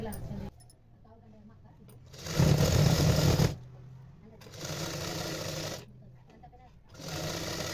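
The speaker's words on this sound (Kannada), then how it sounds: "ಸಿಂಗಲ್ ಫೋಲ್ಡಿಂಗನ್ನು ಮಾಡಿಕೊಂಡು ಒಂದು ಸ್ಟಿಚ್ ಹಾಕೋಬೇಕು" A sewing machine stitches a folded hem on a long blouse in short bursts, three loud runs of rapid whirring separated by pauses, with someone talking between and over them.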